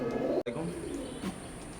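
Imported-bloodline Teddy pigeons coo softly nearby, low murmuring burbles broken by a sharp, brief cutout partway through.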